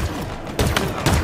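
A Cinder Shot weapon in Halo Infinite multiplayer fires two heavy, booming blasts about half a second apart over a steady background rumble of game noise.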